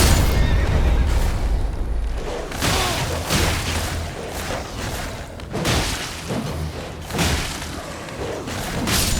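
A horse neighs in Elden Ring, loud and close, with whinnies repeating over booming combat thuds and clattering game effects.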